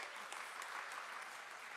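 An audience applauds at a community launch event, a short, even burst of many hands clapping heard faintly from a distance.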